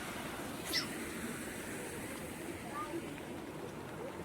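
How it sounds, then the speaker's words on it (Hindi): Rain-fed stream running across a mountain road during monsoon rain, a steady broadband wash of flowing water heard close by, with brief faint movement noises on top and no talking. "एक और नाला आ गया रास्ते में, बारिश के कारण ये भी आ गया।"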